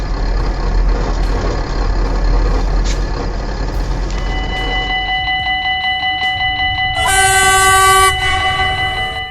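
A heavy train rumbles past loudly and close, with a constant low roar joined by tonal wheel and rail squeals, followed by a sharp, piercing horn blast near the end.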